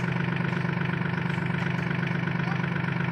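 A tractor engine runs steadily with a continuous low, throbbing rumble at an even pitch. No voices are heard.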